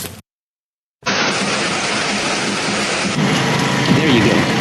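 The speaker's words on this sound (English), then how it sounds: "It started to rain, finally it came." Steady heavy rain pours down outdoors in a war-torn region, a dense continuous hiss that begins abruptly after a brief silence and holds at a loud, even level.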